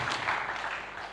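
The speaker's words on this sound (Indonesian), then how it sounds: "ayo yang di belakang sana tepuk tangan buat Tuhan Yesus" Brief applause from a church congregation during an online Sunday service, a soft diffuse patter of clapping lasting about a second with no voices over it.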